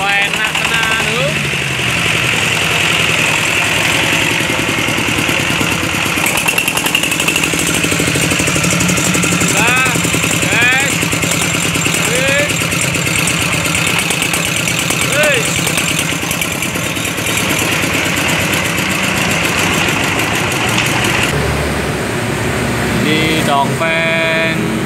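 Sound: Dongfeng diesel engine idling after starting

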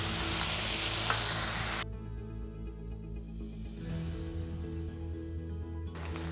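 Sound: stirring noodle mixture with sauces in a pan

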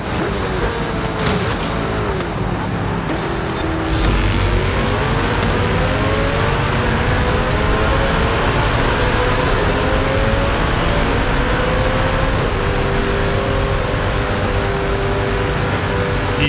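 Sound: car engine revving in Forza Horizon 5 video game race

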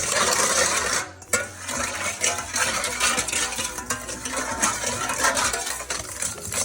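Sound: spoon stirring fish sauce and sugar to dissolve it

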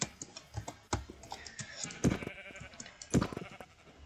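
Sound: sheep bleating in Minecraft video game

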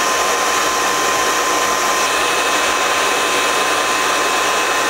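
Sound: hair dryer blow drying a lace wig

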